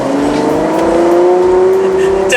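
A Ferrari 812 GTS convertible's 800-horsepower engine accelerates hard, its steady rising engine note loud and close throughout, with open-top wind rush around it.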